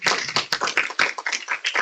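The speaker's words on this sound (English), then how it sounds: "Let's give a big round of applause." Scattered applause from a small audience at a church gathering, distinct individual hand claps in an uneven patter, fairly close and crisp, thinning out toward the end.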